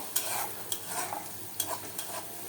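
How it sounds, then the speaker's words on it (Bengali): Fish roe fries in a pan with a bright, constant sizzle and crackle, while a utensil stirs and scrapes against the pan several times, close by and with no voices. "আজকে স্পেশাল ডিশ রান্না করা হচ্ছে, মাছের ডিম"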